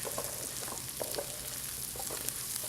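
Onions fry in a pan at the start of a lobster asparagus risotto, giving a quiet, continuous sizzle with faint crackles and small pops throughout. No one speaks.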